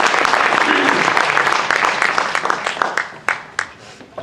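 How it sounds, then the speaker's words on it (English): An audience applauds a magician, dense clapping that starts strong and thins out toward the end, leaving a few scattered loud claps alongside some voices. "Give him a big round of applause"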